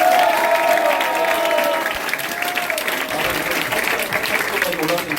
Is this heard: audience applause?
yes